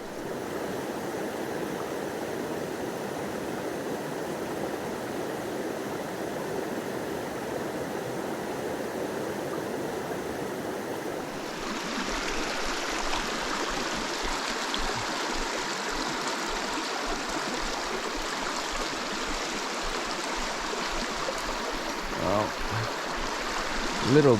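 A river in Algonquin backcountry rushes steadily and close by, a continuous broadband wash of flowing water that grows brighter and louder partway through.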